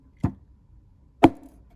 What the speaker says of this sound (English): Let's try this again. Hammer like you mean it.